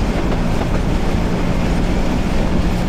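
The Balaka commuter train of Bangladesh Railway runs at speed, a loud, continuous rumble and rattle heard from on board.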